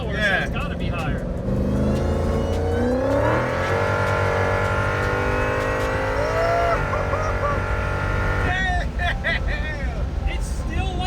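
A Dodge SRT-10 fitted with a Demon engine accelerates hard in first gear, its loud engine rising in pitch with a rough roar, while people talk over it throughout.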